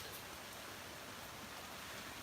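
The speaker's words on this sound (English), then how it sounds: "think the rain's causing problems there" Steady rain falls in an even, unbroken hiss that stays at the same level throughout, with no voices.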